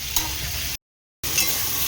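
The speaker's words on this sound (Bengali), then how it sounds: "এখানে মাছ ভাজা হচ্ছে আর এখানে বসিয়েছি ঢ্যাঁড়সের জন্য একটু পেঁয়াজটা লাল করে ভেজে নিচ্ছি আগে" Fish and onions frying in separate pans for an okra dish, giving a steady close sizzle that breaks off briefly in the middle and then resumes, with no talking.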